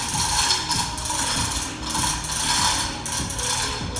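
A Harbor Freight crane hoist ratchets steadily while lifting, giving a continuous run of close, dense mechanical clicking and grinding with a regular pulsing rhythm.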